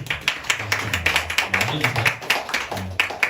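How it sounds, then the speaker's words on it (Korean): A church congregation claps together during a Sunday service, a brisk run of many hands applauding at a moderate distance, steady and continuous for the whole moment. "우리 함께 박수."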